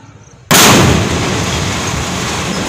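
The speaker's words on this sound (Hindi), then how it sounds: "इस होटल को विस्फोट से उड़ा दिया गया है" Explosives bring down a large hotel building in Ujjain with a sudden loud blast after a quiet moment, followed by a sustained heavy rumble of collapsing debris that fills the rest of the clip.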